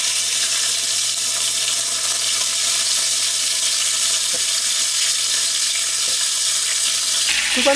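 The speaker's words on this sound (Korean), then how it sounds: "한번 튀겨낸 다음에 한번 더 튀기시면 더 바삭거리고 좋아요." Semi-dried pollock (kodari) deep-frying in hot oil gives a loud, steady, dense sizzle that runs unbroken throughout, with a faint tap or clink near the end.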